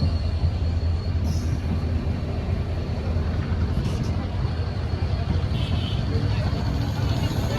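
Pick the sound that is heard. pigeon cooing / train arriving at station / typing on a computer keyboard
train arriving at station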